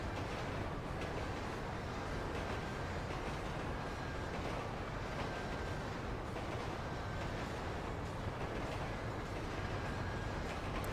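A train in a FiveM video game rumbles along continuously with a low, steady roar and rhythmic rail clatter, moderately loud, no voices.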